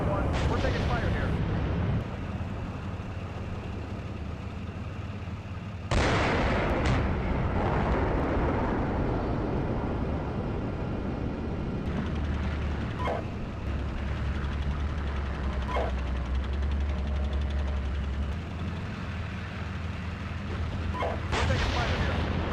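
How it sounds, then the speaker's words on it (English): Heavy gunfire and artillery blasts in a combat exchange, a dense, loud rumble of booms and reports that runs throughout, with a big surge near the start and sharp cracks later, while voices talk over radio amid the noise. "4-1, we're taking fire here."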